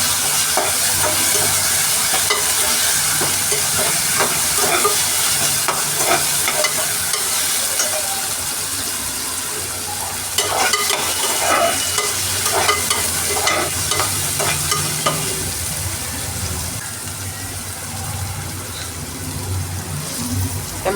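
Ginger garlic paste frying and being stirred in a pan for veg biryani, a steady close sizzle with scraping of a spoon running throughout, with no talking.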